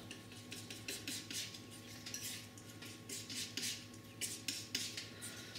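A steel palette knife mixes ultramarine blue, a little yellow and a touch of raw sienna oil paint into a beach and rocks painting, giving soft repeated scraping and tapping strokes in an uneven rhythm, close but faint, with no talk.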